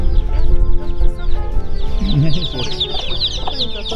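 Chickens and chicks clucking and peeping close by, a busy overlapping chorus of short calls and high chirps.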